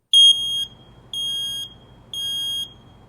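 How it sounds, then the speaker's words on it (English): Smoke alarm sounding its test after the test button is pressed: three loud, shrill, close electronic beeps, evenly spaced about a second apart, with no talking. "every smoke alarm in your house is going to go off"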